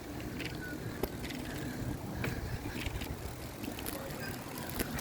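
A bicycle rolls along on a street with the rider's hands off the bars, giving a faint steady tyre and road rumble with scattered clicks and knocks, while cars pass in the background.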